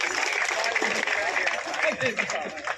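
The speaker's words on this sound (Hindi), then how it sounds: "इसलिए एक बार जोरदार तालियों से स्वागत।" An audience at a village Ambedkar Jayanti gathering applauds to welcome the MP, a dense steady patter of clapping from a crowd, with voices mixed in.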